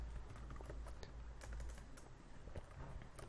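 Steady computer-keyboard typing of order requirements for a freelance gig listing, close and continuous with dense rapid keystrokes throughout and no voices.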